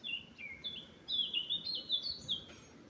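A small bird sings a run of bright, high chirping phrases, fairly close and continuous, over a soft, steady background murmur.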